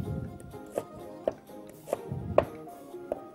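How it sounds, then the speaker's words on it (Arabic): A knife chops onion into cubes on a board, with a handful of separate, evenly spaced, crisp chops, quiet and close. "هبدا ان انا ايه اقطع البصل"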